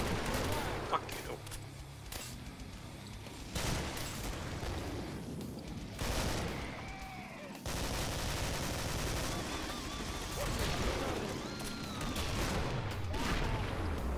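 Combat shotgun blasts in the Killing Floor co-op game, repeated loud shots mixed with other gunfire and chaotic combat noise across the clip, with people talking over the action.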